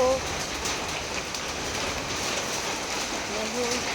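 Heavy rain pours down steadily, a dense continuous hiss of drops striking surfaces close by, loud and unbroken throughout with no voices over it.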